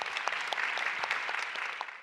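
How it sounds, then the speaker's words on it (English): Audience applause for speakers on stage at the end of an evening salon event, a dense, steady crowd clapping that holds throughout and tapers off at the very end. "another round of applause for these living legends on stage with me this evening"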